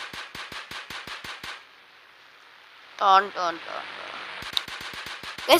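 Rapid automatic gunfire from the Indian Bike Driving 3D video game rattles in loud, evenly spaced bursts at the start and again at the end, with a voice speaking briefly in the quieter middle.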